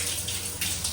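Water gushing steadily from a tap in a guesthouse bathroom in Mersing, a loud, continuous broadband splash that swells briefly partway through, with no talking.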